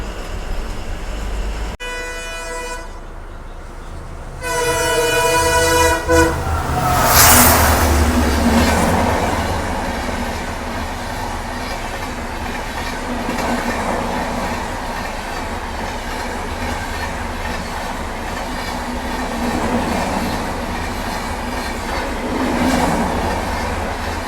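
A train rumbles past near a level crossing on a bus route through Gujarat, opening with a loud horn blast in repeated toots, then a long steady roar of wagons with rhythmic clatter on the rails and no talk.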